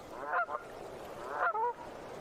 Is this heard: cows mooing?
no